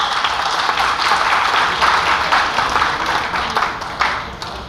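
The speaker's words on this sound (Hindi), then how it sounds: "सर एक बार तालियां बजा दीजिए जोरदार" Loud, dense applause from the audience at a Hindi poetry recital, a continuous close patter of many hands clapping with no pause.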